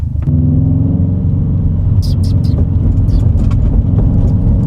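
Steady low rumble of a car driving over a rough road, with brief rattles and bumps in the second half.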